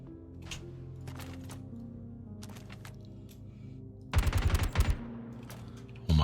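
Gunfire from Star Citizen: a few faint scattered shots, then a loud rapid automatic burst of about a second, followed by another sharp close blast at the end.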